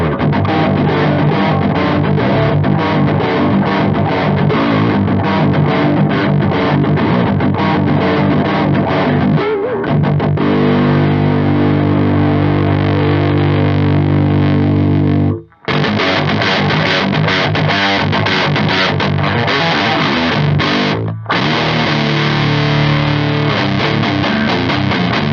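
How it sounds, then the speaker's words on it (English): An electric guitar plays through a Biyang DS-12 distortion pedal with its filter at the lowest setting, giving a thick, muffled, heavily saturated tone. The riffs and sustained chords run continuously, broken by two short cuts to silence. "the filter on the lowest sounds like it's submerged underwater"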